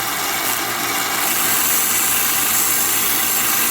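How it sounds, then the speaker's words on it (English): A Civivi Cleaver knife blade being sanded on a powered sander, a loud continuous high abrasive whine and hiss held steady close by, with no voices. "And then we start sanding it."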